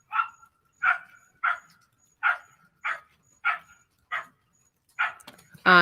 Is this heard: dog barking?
yes